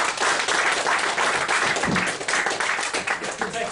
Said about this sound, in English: Alright, give them both a round of applause.